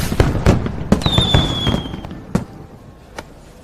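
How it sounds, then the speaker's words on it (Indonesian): Fireworks set off in a drama scene: a rapid string of sharp crackling bangs, close and loud, with a brief high whistle streaking through the middle before the pops thin out. "Yao malah menghidupkan kembang api"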